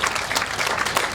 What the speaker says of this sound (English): so I think he should get a round of applause